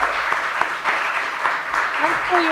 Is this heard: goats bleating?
no